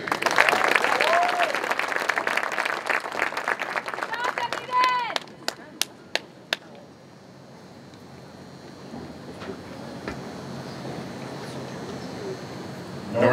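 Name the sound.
applause for a high school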